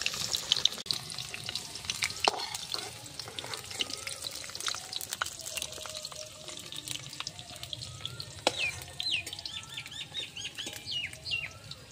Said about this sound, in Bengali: এবার আমি এর মধ্যে একে একে কেটে রাখা আলুগুলো দিয়ে দেব।